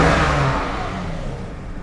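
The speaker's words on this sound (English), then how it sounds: "definitely does rev more freely or easily than before" An older Jaguar engine revs freely and then settles, a smooth close whirring rise that falls back toward idle over a brief moment.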